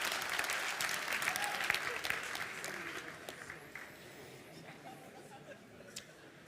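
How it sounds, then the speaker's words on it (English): A conference audience applauds at a talk, the clapping strongest at first and then thinning and fading over several seconds, with scattered claps and faint murmuring voices underneath. "Give yourself a big round of applause."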